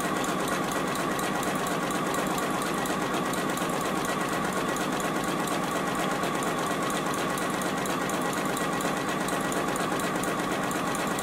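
A JUKI sewing machine runs a steady, close, continuous stitching hum while sewing a fabric beverage coaster, with no voices.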